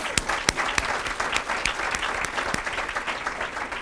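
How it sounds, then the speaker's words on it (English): A nonprofit grants gathering's audience gives a round of applause, steady crisp clapping with a few sharper individual claps standing out, moderately distant. "So let's give them a round of applause"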